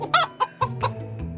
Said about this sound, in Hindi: सभी लोग मिलकर एक मुर्गी को पकड़ने की कोशिश कर रहे थे